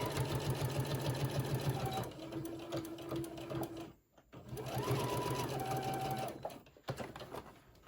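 Sewing machine stitching a small rainbow tote bag, running in two steady bursts with a short pause between, close and fairly loud, its motor hum and rapid needle rhythm continuous.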